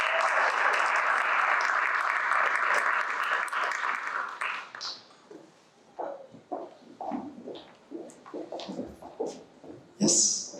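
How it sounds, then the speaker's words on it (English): Audience applause at a university sustainability conference, a full steady round of clapping for about five seconds that stops abruptly, followed by a speaker talking into a microphone. "So please give an applause for Judit"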